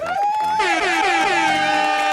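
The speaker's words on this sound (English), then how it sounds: "the air horn" A loud, blaring air horn blast that holds steady and brassy for about two seconds, sliding slightly in pitch with crowd noise faintly underneath.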